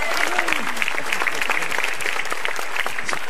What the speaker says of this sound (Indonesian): Tepuk tangan sekali lagi buat Iwel.